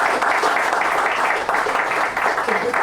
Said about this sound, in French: je voudrais encore des applaudissements